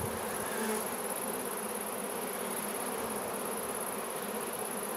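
Honeybees drone in a continuous, even buzz from an open hive during an inspection, the dense hum steady and fairly quiet throughout with no talking.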